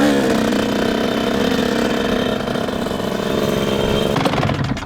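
A motorbike engine runs steadily at idle on open ground, loud and close throughout, with a dense low rumble that holds level before a slight change near the end.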